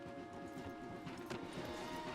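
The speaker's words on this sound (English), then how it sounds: "let's dismount here. We won't get the horses down this path" Horses' hooves clip-clop softly at a walk in the Red Dead Redemption 2 western game world, faint and steady beneath a low ambient hum.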